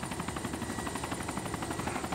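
An army helicopter in the video game DayZ, a steady rhythmic rotor thudding, fairly loud and continuous, with no talk over it.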